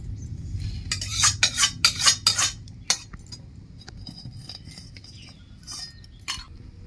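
Roasted whole spices tipped out of a metal pan: a burst of rattling, scraping clinks in the first few seconds, then sparse lighter taps and scrapes against a quiet background.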